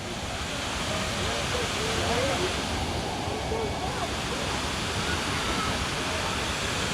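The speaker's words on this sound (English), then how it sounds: "It's a 60-foot waterfall." Steady roaring rush of Looking Glass Falls, a 60-foot waterfall, broad and constant throughout, with faint voices in the distance.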